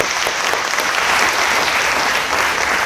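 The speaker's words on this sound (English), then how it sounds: "First, a big round of applause for all the folks recognized here today." Audience applause fills the room at the 2023 Apple Awards ceremony, honoring community award recipients: dense, steady clapping from a crowd, sustained evenly throughout with no voices above it.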